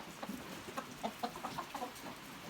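Chickens cluck in a quick, uneven series of short notes at a low level over faint background noise, with no talk.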